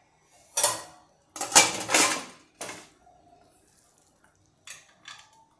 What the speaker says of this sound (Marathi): आता मी ही भेळ प्लेटमध्ये काढते